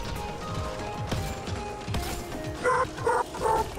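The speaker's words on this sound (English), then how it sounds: "Whose dog is that?" A dog in the Mass Effect Andromeda multiplayer game barks a few times near the end, short sharp yelps over a mechanical, clanking game backdrop.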